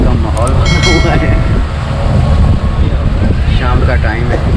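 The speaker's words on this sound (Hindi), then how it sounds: "बड़ी ठंडी ठंडी हवा चल रही है" Loud wind buffets the microphone on a boat out at sea off Dubai in the evening, roaring steadily under the engine's rumble and splashing water, with people talking in the background.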